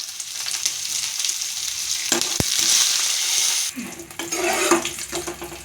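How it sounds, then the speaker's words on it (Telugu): Dried red chillies frying in a pan with cumin, a steady bright sizzle that fades briefly and then swells again as they are stirred, close and fairly loud, with no talk. "జీలకర్ర పోసుకొని ఎండుమిరపకాయలు వేసుకుంటున్నాను."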